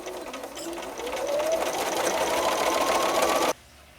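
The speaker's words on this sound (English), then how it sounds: "I've sewed the first 2 rows together." Sewing machine stitching quilt rows together, a close, rapid mechanical whir that speeds up over the first second, runs steadily, then stops abruptly.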